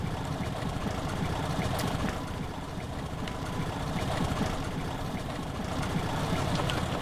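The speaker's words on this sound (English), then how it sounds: "Kill the engine." A boat engine runs steadily in the Metro: Last Light video game, a dense low rumble that stays loud and constant throughout with no pauses.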